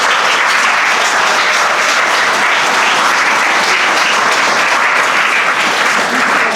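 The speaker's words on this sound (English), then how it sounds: "So give her a huge round of applause." Dense, steady applause from an indoor audience at a school youth event, loud and continuous throughout with no pause.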